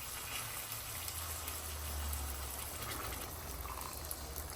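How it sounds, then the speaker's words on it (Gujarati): Water pours into a pot of cooking pigeon pea totha curry, a steady, close rushing splash that holds unbroken for several seconds with no voices. "પાણી ઉમેરીએ છીએ"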